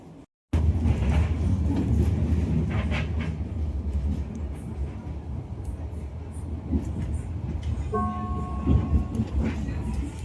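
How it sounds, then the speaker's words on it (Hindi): Train running between buildings in a German town, a continuous loud rumble with rail clatter heard from nearby, plus a brief tonal whine near the end. "ये दोनों तरफ इसके बिल्डिंगों में बीच में ट्रेन चल रही है"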